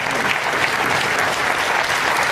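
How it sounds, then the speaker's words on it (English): Dense, even applause from an audience at a company presentation, loud and continuous throughout the short span with no talk over it. "Give him a big round of applause, ladies and gentlemen."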